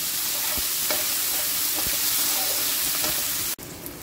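Chickpeas (chole) and softened tomatoes frying in oil in a pan, giving a steady close sizzle with faint stirring scrapes throughout, cutting off sharply near the end before a quieter tail.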